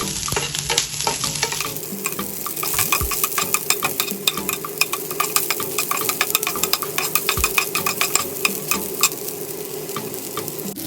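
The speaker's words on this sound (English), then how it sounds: "Now fry the ingredients." Garlic and small onions for a tamarind chammanthi sizzle steadily in a hot pan, with frequent scraping stirs and light clinks of a utensil against the pan close by throughout.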